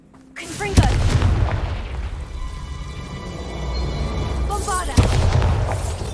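Confringo blasting spell in Hogwarts Legacy, two sharp explosive bursts a few seconds apart with whooshing trails, over a steady hum of game ambience and scattered crackles.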